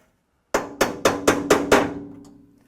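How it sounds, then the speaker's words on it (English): Six quick, solid hammer taps seat fasteners while fitting a Falcon export brace, evenly spaced and close, each ringing briefly before fading out. "I'm going to tap these fasteners into play a little bit better"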